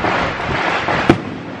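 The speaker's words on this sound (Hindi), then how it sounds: "पटाखों की आवाज सुन" A string of firecrackers set off during Dhanteras festivities crackles as dense, continuous loud bursts, with one sharper bang standing out near the end.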